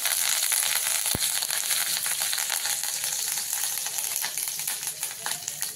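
Curry leaves dropped into hot oil with asafoetida for a traditional cluster-bean dish, giving a bright continuous sizzle with crackling pops and a single sharp clink near the start, close and steady throughout.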